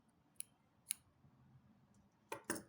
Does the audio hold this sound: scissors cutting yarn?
yes